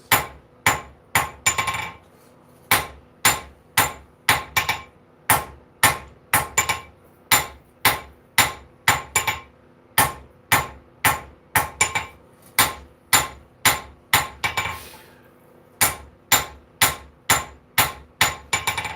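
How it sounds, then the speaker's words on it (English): Hot metal pounded with a hammer on an anvil in a Maine blacksmith shop, sharp ringing strikes in a steady rhythm of about two per second, loud and close with brief pauses, no talking. "Scrape off anything we don't want. On the anvil. And forge away."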